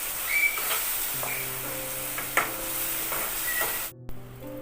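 Garlic and spice paste frying in oil in a pan for a restaurant-style mutton curry, giving a steady close sizzle with occasional stirring scrapes and a brief clatter near the end.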